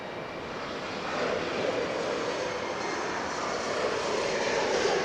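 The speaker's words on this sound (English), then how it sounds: "the Qantas is heading to the hangar" A Qantas airliner taxis toward the hangar at LAX, its engines giving a steady, broad, moderately distant roar that swells slightly, with no talking.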